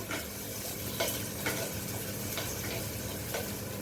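Ingredients for eggplant chutney fry in a pan with a steady, soft sizzle and occasional light ticks of stirring, heard close and alone.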